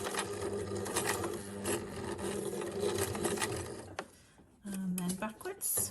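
A sewing machine stitches the first row along webbing on a fabric tote bag with a steady, fast mechanical whir. It stops, then starts again briefly in short bursts toward the end.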